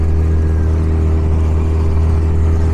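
A Parsun 20 hp outboard motor runs at full throttle on an inflatable boat heading upstream against the current, a loud, steady droning engine roar that holds constant throughout with no talking.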